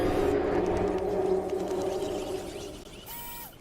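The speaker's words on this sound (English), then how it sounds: "That's the sound of the mighty T-Rex." A T-Rex roar in the PUBG Mobile video game: a loud, deep, rumbling roar that fades out over a few seconds, followed by a short high electronic tone.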